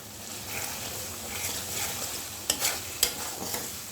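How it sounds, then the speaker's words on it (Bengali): Small pieces of chicken breast fry in a pan for noodles, a constant close sizzle broken by several sharp spatula scrapes and knocks near the end. "আর এখানে মাংস কষাই দিচ্ছি, ছোটো ছোটো করে মাংস নিয়েছি।"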